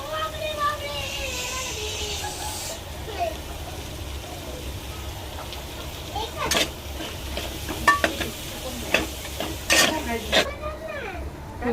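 Finely chopped potato sizzles steadily in a hot pan with coriander while a utensil stirs and scrapes now and then, with a few clinks of metal.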